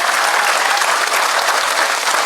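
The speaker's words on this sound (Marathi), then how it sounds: "आता टाळ्या वाजवा जोरात" A large crowd at a political rally claps loudly and continuously, a dense, even roar of applause up close with no pauses or voices standing out.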